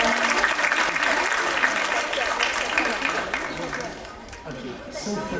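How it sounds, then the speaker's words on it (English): A workshop audience claps for a participant, producing a dense wash of applause that starts strong and gradually thins and fades, with murmured voices and chatter mixed in toward the end. "Give a round of applause for Fatiha."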